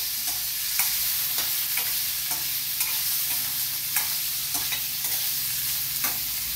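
Boiled potatoes being stirred in a hot pan for ghugni, a steady close sizzle of frying with a spatula scraping and tapping against the pan at a regular pace.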